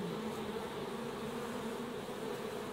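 Honeybees from a colony of 15,000 to 20,000, installed with queens in experimental hives modelled on ancient designs, make a dense, steady, close buzzing hum with no other sounds.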